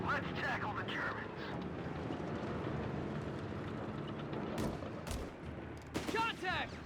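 Gunfire skirmish in Company of Heroes 3, a Wehrmacht versus US Forces match with pioneers engaging scouts: scattered shots and bursts crackle under a steady battle din, with sharper volleys near the end.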